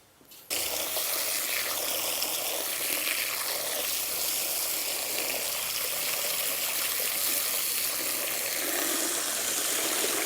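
Water pours steadily off soaked belimbing wuluh starfruit, a constant loud gush that starts abruptly and continues unbroken, with no talk.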